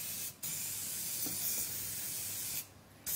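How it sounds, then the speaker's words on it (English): Fly spray aerosol hisses in a continuous broadband spray for about two seconds, with a shorter burst just before, in a room where an air purifier runs. "you know, we're doing fly spray here"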